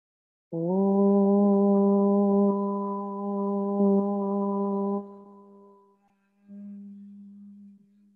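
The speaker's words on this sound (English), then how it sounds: "we'll close by chanting the sound of Om" A group chants a sustained Om at the close of a meditation session, one long steady drone that fades out, followed by a softer second hum.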